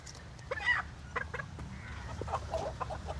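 Sultan chickens on a farm cluck in short, close bursts over a low steady background rumble, several soft calls scattered across a few seconds.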